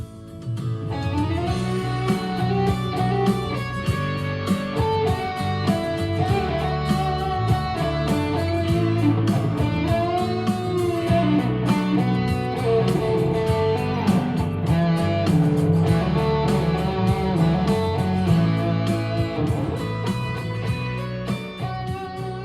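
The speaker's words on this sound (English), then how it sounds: "you can play lead guitar over top of a band and sound kind of like this." A loud, sustained electric guitar lead through an amplifier with dense harmonic tone plays continuously over a full band backing, steady and close throughout.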